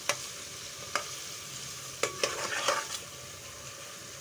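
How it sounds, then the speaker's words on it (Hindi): Chicken being sautéed over a medium flame in a pan with whole spices, steady sizzling broken by sharp scraping stir strokes at irregular intervals, close and clear with no voices. "चिकन को थोड़ा सा सॉटे करना है"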